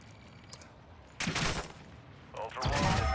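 Gunfire in Call of Duty DMZ as bots are shot at, two loud bursts of shots breaking in after a quiet stretch, close and sharp, with voices talking around them.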